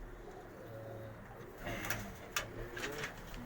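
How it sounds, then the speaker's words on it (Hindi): High flyer pigeons coo softly in a few low, repeated throaty calls, with scattered faint clicks and rustles in a quiet setting, no talk. "और ये इनके हाई फ्लायर कबूतर हैं, प्योर।"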